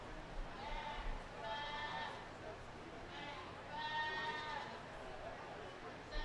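Goats being paraded around a county fair show arena let out two drawn-out, wavering bleats at moderate distance, heard beneath the murmur of an announcer and crowd.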